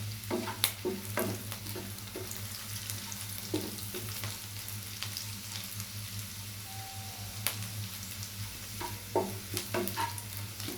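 Onion browns in a pan with a steady, quiet sizzle and frying crackle, punctuated by occasional scraping clicks of stirring, with no talking.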